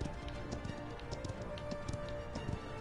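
Horse hooves galloping in the hero shooter Paladins, a steady rapid clip-clop running continuously at moderate level beneath dense game sound effects.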